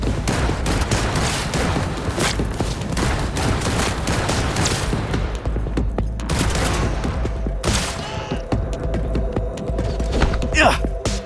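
Shotgun fire in the Cyberpunk 2077 video game, with dense, loud blasts and heavy impacts over a constant low hum of combat noise. A voice breaks in briefly.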